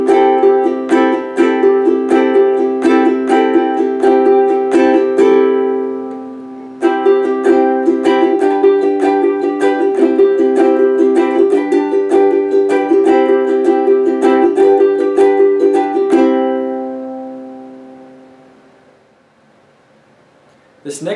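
Ukulele picked with the thumb on its top string in a quicker pattern, bright repeated plucked notes in a steady, fast rhythm, a short pause near the middle, then fading to a faint tail at the end.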